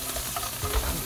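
Clams and shrimp fry in an oiled pan while pasta is being cooked, giving a steady close sizzle with faint stirring scrapes throughout a brief stretch with no talk.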